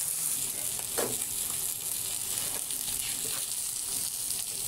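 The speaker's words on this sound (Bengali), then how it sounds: "ওই পাশটা আমি একইভাবে ভেজে নেব।" Tilapia paturi wrapped in banana leaf fries in hot oil with a steady, dense sizzle that stays even throughout. It is close and fairly loud, with no voices.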